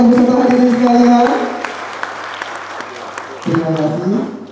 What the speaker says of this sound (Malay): Boleh beri tepuk tangan yang meriah Bapak Ibu serta hadirin sekalian.